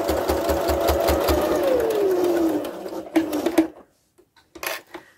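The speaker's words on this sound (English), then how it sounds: "Now you're going to sew over that gap." Sewing machine stitching across the pleats of a fabric face covering, a steady fast mechanical whir running loud and close for several seconds before stopping, followed by a few brief handling clicks.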